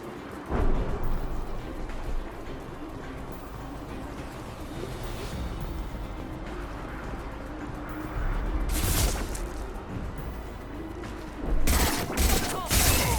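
Gunfire in the video game Mass Effect 2 Legendary Edition sounds as rapid volleys over a busy battle backdrop, with a burst near the middle and a heavier cluster of shots at the end.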